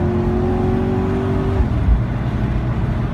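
A car drives on the Circuit of the Americas Formula One track, its engine holding a steady tone before dropping abruptly partway through, then continuing as a loud, close rumble.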